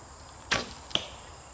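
Two arrows strike a foam 3D archery bear target in quick succession, each a sharp solid thwack close by, the second slightly softer, over quiet outdoor background.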